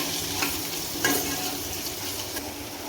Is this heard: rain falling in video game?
no